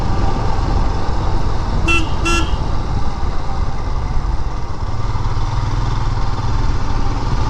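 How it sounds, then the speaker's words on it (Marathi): A Royal Enfield Himalayan motorcycle sounds two short, quick horn toots on a bend, cutting above the steady roar of its engine and rushing wind while riding. "वळणावर हॉर्न द्यायला लागतो आपल्याला"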